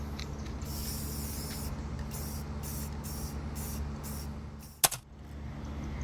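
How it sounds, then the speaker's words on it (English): An aerosol can sprays black paint onto a tiki torch outdoors in a series of short hissing bursts, roughly six in a row, with a sharp clatter from the can near the end over a low background hum. "Make sure you do this outdoors and get your black spray paint."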